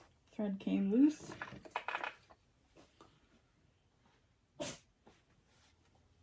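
A single sneeze bursts out close by in a quiet room, followed by a short second burst and faint rustling, with no talk in between.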